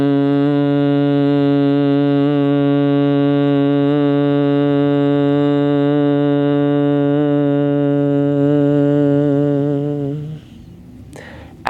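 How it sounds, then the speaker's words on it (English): A person hums one long, steady, loud, close tone on the exhale during bhramari-style pranayama breathing, holding it for about ten seconds before it tapers off into a soft breath. "I'll take a deep breath in through the nose, and on the exhale, I'll make an humming sound"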